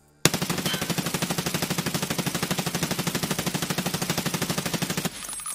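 A G36 rifle firing full auto while standing in a shooter video game: one sustained, rapid, evenly spaced burst of loud close shots lasting about five seconds, then a sudden stop with a faint ringing tail.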